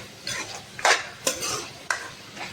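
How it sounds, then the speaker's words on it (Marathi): Dry vajdi (goat tripe) stirred in a pan, several close, bright scraping strokes of a metal spoon against the pan over a faint sizzle, coming in uneven bursts. "आता आपल्याला ही वजडी हलवून घ्यायची मस्तपैकी"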